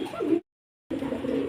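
Racing pigeons of a Belgian racer type give low, close cooing in two short bursts separated by about half a second of silence.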